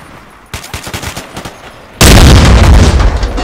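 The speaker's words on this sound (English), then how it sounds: "God damn this Michael Bay explosion!" A big explosion in the Battlefield 2 Nightfall 2048 mod erupts abruptly and loudly after a stretch of rapid gunfire, its roar filling the rest of the moment.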